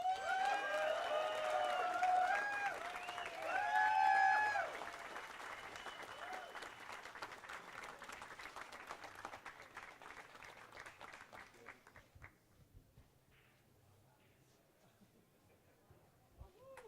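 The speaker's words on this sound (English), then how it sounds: "we have a nice round of applause for our four top finishers" Steady audience applause at a world 10-ball pool championship for the four top finishers, a dense sustained clapping that holds for many seconds and then fades gradually to quiet.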